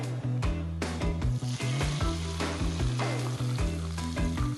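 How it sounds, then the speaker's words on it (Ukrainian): Hot oil poured over spices and anchovies, a loud close sizzle and crackle that surges and bubbles continuously throughout, with no voices. "наша олія добряче розігрілася, почала злегка бульбашитися, але ще не диміти. І це саме час виливати її на наші спеції і анчоуси"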